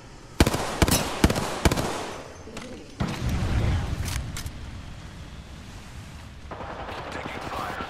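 Heavy gunfire in the Apex Legends video game on PS4: several sharp, loud shots early on, then sustained rumbling bursts and crackle continuing through the rest, with a voice speaking over parts of it.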